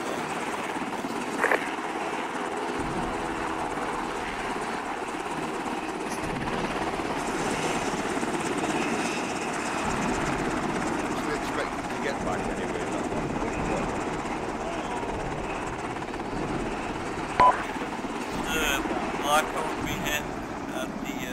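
An ArmA 2 video game helicopter drones continuously throughout, a steady rotor rumble with occasional faint thuds and clicks in the background.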